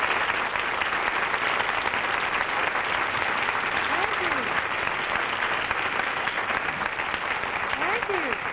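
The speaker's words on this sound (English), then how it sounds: "Thank you very much for applauding that number" A studio audience applauds a song on a 1960s TV variety show, dense continuous clapping throughout, loud and close, with faint whoops or voices rising briefly within it.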